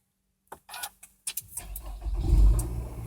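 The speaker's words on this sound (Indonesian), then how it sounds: "kita mulai nyalakan mesinnya. Ya. Kita pijit tombolnya" Push-button start of a Nissan X-Trail: a few clicks and cabin handling noises, then the starter catches and the engine rises into a close, steady idle rumble.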